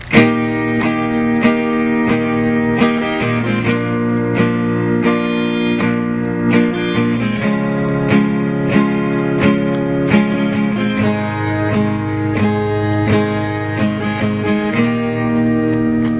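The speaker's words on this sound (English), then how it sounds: "what I'm doing there is just a series of down strums" Bright acoustic guitar chords from a song strummed steadily with repeated downward strokes, full and close, no voices.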